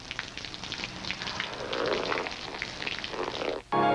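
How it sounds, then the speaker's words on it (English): Coors Light beer pours smoothly from a wide-mouth can, a soft continuous fizzing rush lasting several seconds, quiet and close, ending abruptly as a different steady tone cuts in. "Now here's Coors Light's wide mouth can. A larger opening means a smoother pour."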